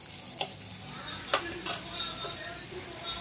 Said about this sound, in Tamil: அதையும் போட்டு நல்லா வதக்கி விட்டுக்கலாம்